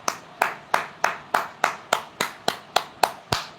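Single person clapping hands, eleven crisp, evenly spaced claps at a steady rhythm, close and clear with nothing else heard.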